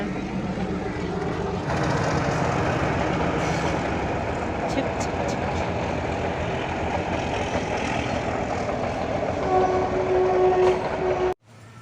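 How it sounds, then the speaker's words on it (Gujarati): A train rumbles steadily past a rural village, loud and close with continuous wheel and carriage clatter, ending in a brief horn blast just before the noise cuts off; voices speak faintly underneath. "ટ્રેન આવી ટ્રેન"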